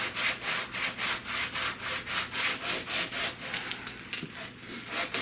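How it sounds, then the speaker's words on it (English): Fiberglass rear speaker deck for a custom car audio interior being sanded flat by hand, a near, rhythmic back-and-forth rasp of about a dozen even strokes that loosens toward the end. "I'm going to just sand this off flat."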